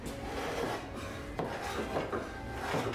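Wood being shaved with a hand tool while making a Windsor chair produces repeated close raspy scraping strokes, a steady rubbing texture with a few sharper cuts.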